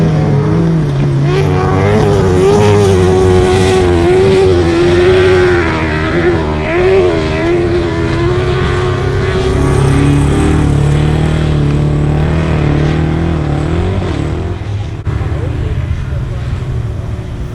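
Autograss race cars roar and rev loudly around a grass track, their engines rising and falling as they pass close by. Someone talks over the steady, howling din.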